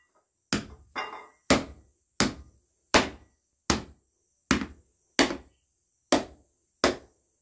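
A cupuaçu fruit is struck against a hard surface to crack its shell, giving ten sharp, loud, evenly spaced knocks, each a hard thud with a short rattle. No one speaks.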